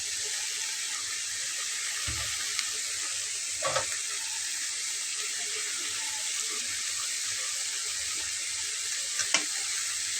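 Beaten eggs sizzle in hot oil over frying snake gourd, a steady close hiss that runs without a break, with a few soft utensil clinks and scrapes.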